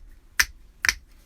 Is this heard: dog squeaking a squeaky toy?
no